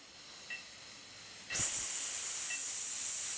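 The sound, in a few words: exhaled shushing hiss breath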